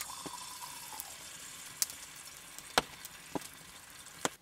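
Russula mushrooms sizzle in hot oil in a pan, producing a quiet, steady hiss with scattered sharp pops and crackles.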